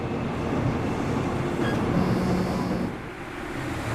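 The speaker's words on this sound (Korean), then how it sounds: "마지막 열차 떠났습니다." The last train of the night pulls out of a station with a steady, broad rumble and faint rail clatter, continuous and moderately loud, easing slightly near the end.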